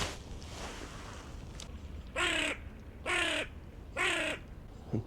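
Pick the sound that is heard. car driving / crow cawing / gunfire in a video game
crow cawing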